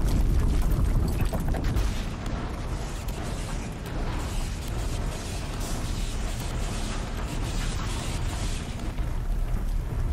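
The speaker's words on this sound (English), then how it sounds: "That is a massive explosion." A sustained, loud rumbling roar from a massive explosion in the video game Horizon Zero Dawn fills the clip, dense and continuous with creaking, debris-like texture and no speech.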